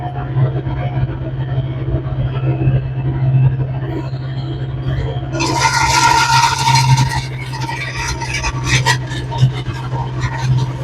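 A Mechmaxx landscape rake drags over old gravel while widening a driveway, a steady low engine drone running throughout and a harsher, louder scraping rasp breaking in partway through and continuing in bursts to the end.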